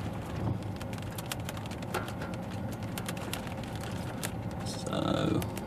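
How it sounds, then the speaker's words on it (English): Small hail pellets tick and patter on a car's bonnet and windscreen at Tudor's Hill, Shooters Hill, in a steady dense spray of tiny sharp impacts, with a brief heavier burst near the end. "We've got a little bit of small hail just tinkering off the bonnet and the windscreen."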